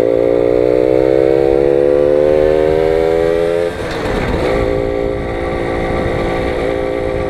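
A Simson moped engine runs loud and close while riding, with a steady droning note that climbs in pitch before dropping sharply as it shifts, then continues at a lower, rougher pitch.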